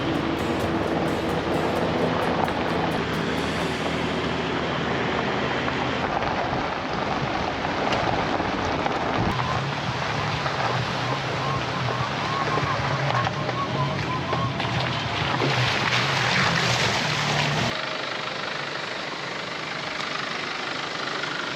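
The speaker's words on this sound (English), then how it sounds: "the sound of 5 four-wheel drives cruising up the hill slowly" Five four-wheel drives cruising slowly uphill on a forest track in Conondale National Park, heard from inside with a window down: a steady loud engine drone with wind buffeting and road rumble, continuous throughout.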